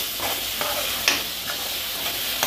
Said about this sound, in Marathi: आता याच्यामध्ये टोमॅटो प्युरी टाकून घेते। आता आपण परतून घेऊया।